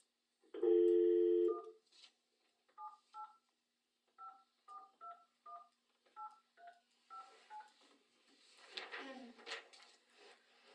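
Telephone redialing a call: a short tone, then a quick series of about a dozen keypad touch-tone beeps in uneven rhythm, clear and close, followed by faint rustling and noise.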